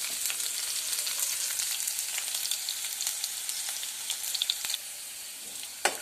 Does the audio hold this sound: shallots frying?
yes